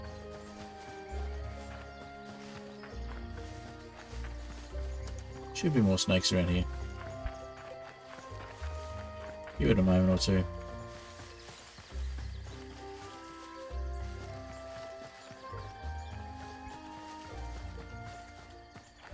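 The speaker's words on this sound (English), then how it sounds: "No, it's not a snake, it's a horse." Horse hooves clip-clop in the video game Hytale, rhythmic steps with two louder bursts, running under steady calm talk from a nearby voice.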